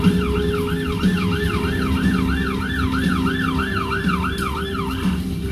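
A fire engine siren wails steadily, its rising and falling tone cycling in a regular rhythm, loud and close over a low rumble of traffic, with no voices.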